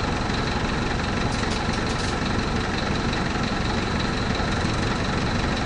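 The Mercedes-Benz OF-1722M diesel engine of a 2007 Marcopolo Torino city bus idles with a loud, steady, unbroken rumble, heard up close with no talking.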